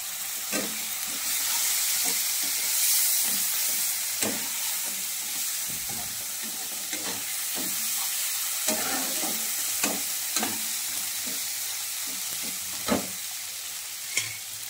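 Spice masala sizzles and fries in a pan with a little water added for chicken kosha, a steady loud hiss broken by repeated scraping stir strokes over about fifteen seconds.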